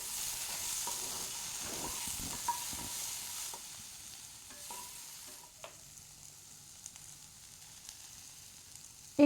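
Potato pieces fry in oil in a pan for aloo posto, with a steady soft sizzle under repeated scraping and stirring of the utensil against the pan, close and fairly quiet.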